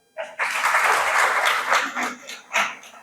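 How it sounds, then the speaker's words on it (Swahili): Audience applause breaks out at a youth patriotism event, a dense sustained clapping crowd that starts abruptly and carries on loudly, with a couple of swelling bursts near the end. "Jipigeni makofi."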